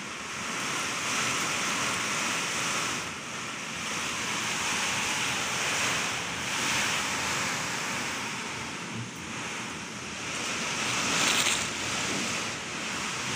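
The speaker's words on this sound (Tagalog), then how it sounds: "Napakalakas ng bagyo." Strong typhoon wind from Typhoon Aghon in Quezon Province, Philippines, roars continuously, gusting and buffeting the microphone in long surging waves, loud and unbroken with no voices.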